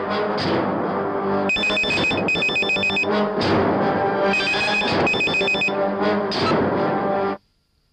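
A telephone rings loud and close in repeated electronic bursts, a steady pulsing trill that runs for about seven seconds before stopping abruptly.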